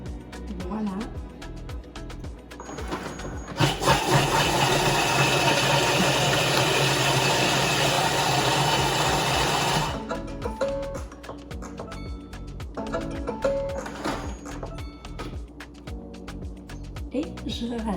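A Thermomix whirs at speed 5 for about six seconds, mixing gluten-free waffle batter in a loud, steady burst, with quieter kitchen clicks and ticks and some speech around it.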